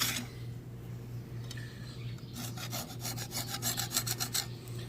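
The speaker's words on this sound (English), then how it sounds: "I use the old blade to kind of clean the sidewalls and scrape any debris out of there" An old planer blade scrapes debris out of the sidewalls of a planer cutterhead. Close, gritty rasping strokes grow quicker and more regular in the second half, over a low steady hum.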